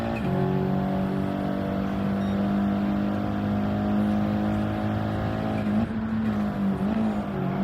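A racing Audi engine drones steadily and loudly up close as it chases other cars, holding a sustained high-revving tone with slight pitch shifts and no talk.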